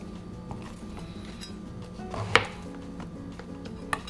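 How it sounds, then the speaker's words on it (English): Kitchen knife trimming the base of eringi mushrooms on a cutting board: a single crisp cut, with faint light taps before and a small knock near the end. "Trim the base of eringi mushroom."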